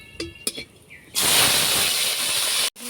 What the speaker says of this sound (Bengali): চিংড়ি মাছ ভেজে নিচ্ছি।